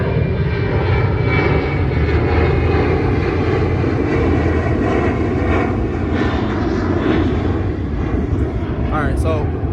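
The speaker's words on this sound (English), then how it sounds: "Planes going over." Airplanes pass overhead in a loud, steady engine drone that lasts throughout, with voices faintly present beneath it.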